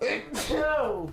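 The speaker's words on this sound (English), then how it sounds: "I gotta sneeze." One sharp, close sneeze from a man, briefly preceded by a spoken word.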